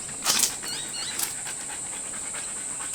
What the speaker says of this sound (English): You can just see her barking at the turkeys, barking at the ibis